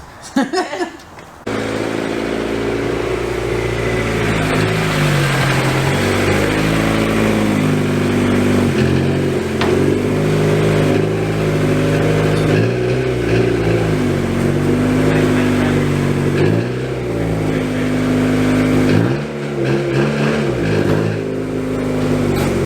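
Turbocharged Honda Prelude with a log manifold revving hard on a dyno, a loud sustained engine drone with rising and falling pitch sweeps across the full run, close and alone after a brief start.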